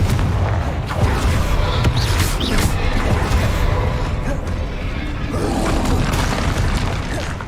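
A Confringo fire blast spell cast during combat in Hogwarts Legacy, heard as a dense run of booming, crackling bursts that fill the whole stretch at steady loudness.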